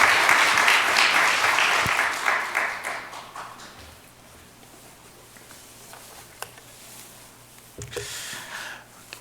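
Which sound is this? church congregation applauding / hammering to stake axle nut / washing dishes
church congregation applauding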